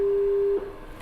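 A steady telephone busy tone sounds loud and alone after a call drops, holding one pitch for about half a second before cutting off into quiet line hiss.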